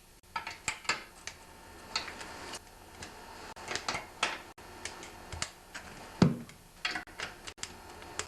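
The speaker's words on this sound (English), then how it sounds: "now just simply tighten up all the bolts with your 9/16 wrench" A 9/16 wrench clicks and ratchets while tightening the bolts on an old MTD snowblower, producing a series of sharp, close metallic ticks at an irregular rhythm, with no talking.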